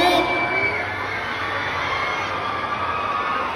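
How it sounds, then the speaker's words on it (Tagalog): A crowd waiting at an SM Seaside mall summer event shouts and cheers in a continuous, moderately distant roar of mixed voices, children among them, with a person talking over it. "Sigawan na, may dumarating na yata."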